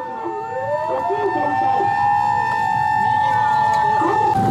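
An ambulance siren wails close by, its clear steady tone holding loud and unbroken throughout.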